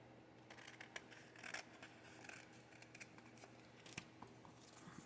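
Scissors snip through paper at a craft table, with several quiet, irregular cuts and light rustling of paper, close by and fairly soft, with no talk.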